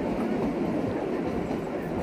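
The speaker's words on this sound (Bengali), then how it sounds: "আর তার মাঝেই আমাদের এই ট্রেন চলছে।" A Shimla toy train runs along its track through green hills of pine and deodar, giving a steady, close rolling rumble with a faint rhythmic clatter that carries unbroken throughout.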